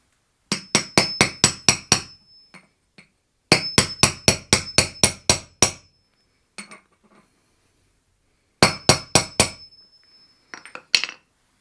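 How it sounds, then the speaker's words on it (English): Metallic hammer strikes on a socket tapping a wheel bearing into a riding mower or garden tractor hub, three close bursts of about six even, ringing taps each, with faint clinks between. "And use the socket and gently tap it in."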